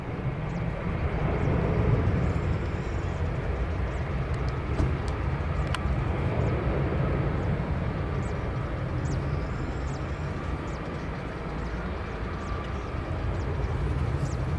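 Airliner on approach and landing on runway 20 at Lisbon Airport, a steady broad jet roar that holds loud and even from start to finish, with no talk.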